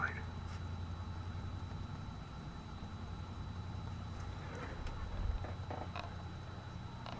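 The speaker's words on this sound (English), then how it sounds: "hear a truck outside." Truck engine idling outside, a low steady rumble that stays constant and somewhat distant throughout, with faint background clatter and no clear speech.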